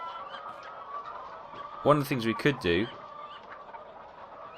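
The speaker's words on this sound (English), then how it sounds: "So these are our free-range chickens, mooching about the place" Free-range chickens in Farming Simulator 15 cluck in a short burst of rapid clucks near the middle, over a low steady game ambience, with someone talking lightly around them.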